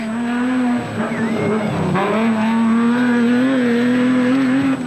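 Toyota rally car races on the Hluhluwe 400 rally route, its engine holding a loud, steady high-revving tone with a brief dip and gear shift, heard close and alone.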